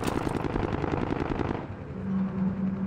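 Video game gunfire from Call of Duty Modern Warfare, a rapid automatic burst of evenly spaced shots for about a second and a half, then a lower steady hum, loud and close with no speech.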